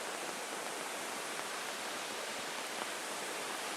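A mountain valley stream swollen by heavy summer rain rushes steadily, a dense, even hiss of flowing water close by with no pauses and no voices.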